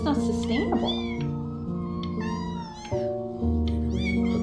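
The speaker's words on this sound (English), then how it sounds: "But I really can't have 5 cats around the house." Several cats in a video game meow in overlapping, rising and falling calls layered over a steady tonal music bed, fairly loud and close.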